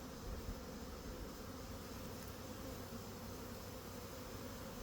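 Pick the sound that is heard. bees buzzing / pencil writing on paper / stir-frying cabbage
bees buzzing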